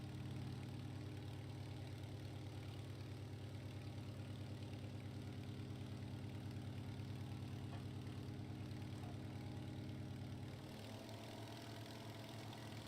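Antonov An-2 biplane with a 1,000 hp nine-cylinder radial engine droning steadily in flight, a loud, rough, pulsing low rumble that holds constant and then shifts pitch near the end.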